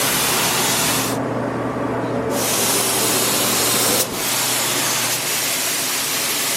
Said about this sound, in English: Got the first layer of clear on.